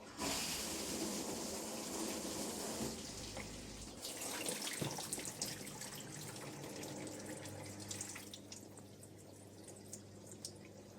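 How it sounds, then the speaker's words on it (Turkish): Dishwasher draining waste water after its program is cancelled, a continuous rushing, hissing water flow with a low pump hum settling in partway through, fairly faint and steady, with no voices. "Programı iptal tuşuna 3 saniye basınca programımız iptal olacak ve suyu dışarı atmaya başlayacak."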